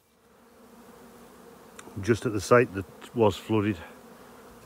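Honey bees buzz around hives in an apiary by heather, a soft continuous hum underneath a voice speaking close by.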